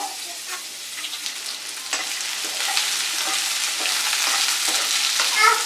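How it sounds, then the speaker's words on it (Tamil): Raw mango pieces sautéing in oil with dried red chillies and curry leaves for sweet mango pachadi, a close, steadily building sizzle with intermittent stirring scrapes and no talk. "ஒரு 1 நிமிஷத்துக்கு எண்ணெயில் வதக்கிக்கலாம்"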